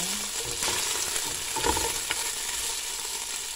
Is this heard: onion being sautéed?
yes